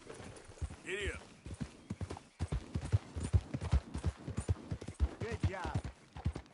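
Horse hooves clip-clop at a steady trot in a cowboy simulator video game, fairly close, with a brief snort or whinny and someone talking over them.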